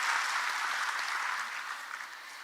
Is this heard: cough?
no